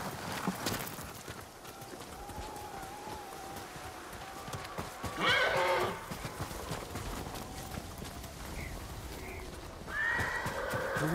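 Horse whinnies in the Ghost of Tsushima game: a mid-length neigh around the middle and another near the end, over a steady ambient bed with faint hoof sounds and light background voices.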